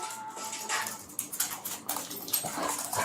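A puppy whimpers and gives thin, high yips in a short, restless run, close by and fairly soft over steady background noise, with no talking.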